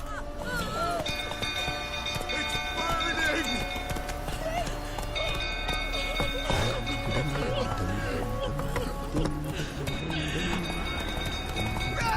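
Roach, a horse in The Witcher 3, gallops with a steady, continuous clip-clop of hooves under game music and ambient sound throughout.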